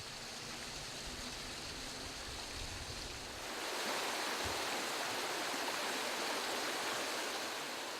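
The Vara River flowing through wooded, well-preserved country in Liguria, a soft continuous rush of water that swells slightly louder partway through, steady and unaccompanied by voices.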